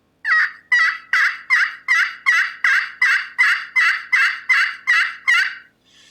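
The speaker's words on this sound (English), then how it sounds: "You just make like a J shape on the call. That'll make your yelp for you." Eleven evenly spaced turkey yelps from a pot call and striker, loud and close, in a steady rhythm, then a brief pause.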